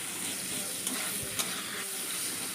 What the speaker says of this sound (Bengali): জিরে ফোড়ন দেওয়ার পর আমি পেঁয়াজ কুচিগুলো দিয়ে দিচ্ছি দিয়ে ভালো করে নাড়াচাড়া করে নিচ্ছি